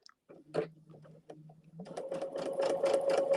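A domestic sewing machine stitches a quilt block, first in a few slow separate stitches, then in a steady, fast, close whirring run.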